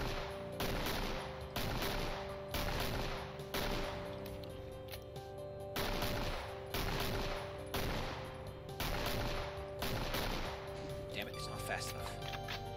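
Rapid gunfire in a Doom video game mod, repeated bursts in a regular rhythm across the whole stretch, with a steady musical drone underneath.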